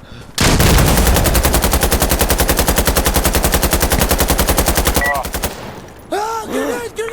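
Sustained automatic gunfire in the video game Insurgency: Sandstorm, a loud rapid burst of shots lasting about five seconds, followed by brief metallic clinks and scattered sounds, with voices nearby.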